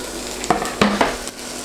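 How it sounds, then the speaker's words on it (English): Shallots hit a frying pan of melted butter and sizzle with a steady, close hiss, broken by a few sharp stirring clicks and scrapes. "So butter's melted. I'll just chuck the shallots in and"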